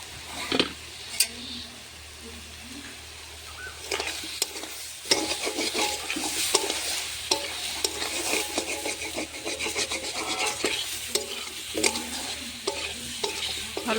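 A vegetable curry sizzles in a pan while a spoon stirs and scrapes it, giving irregular clinks and rasping scrapes over a soft, steady frying hiss. The sound is close, with no talking.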